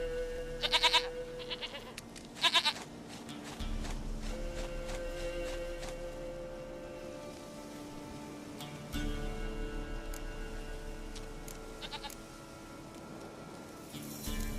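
Goat in The Witcher 3 video game, several short bleats early on over quiet ambient game music, with low footsteps and background tones continuing between them.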